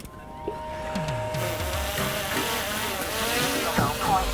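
A DJI Mini 3 Pro drone lifts off from a sailboat, its rotors whining up with rising tones over wind and water noise, close to the microphone.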